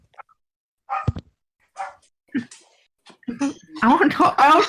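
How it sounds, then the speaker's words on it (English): A dog barks in short yips amid lively, chatty talk among several people setting up a casual gaming podcast. "My dog."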